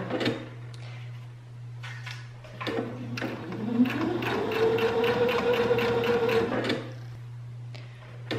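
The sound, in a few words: sewing machine straight stitch along bag edge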